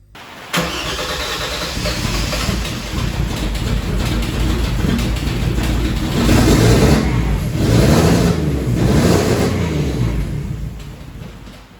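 A turbocharged Mercedes 3.2 engine running on a newly installed standalone ECU during its first start, rumbling steadily and loudly up close, swelling with a few revs midway before settling back to idle.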